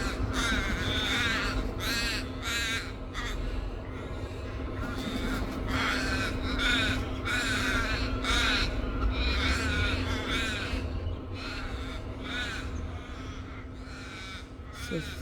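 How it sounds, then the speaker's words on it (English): Crows caw repeatedly from trees on a sunny morning, harsh calls coming in quick, uneven bursts fairly close by, with a faint wash of other birds behind them. "So many crows, geese chirping around."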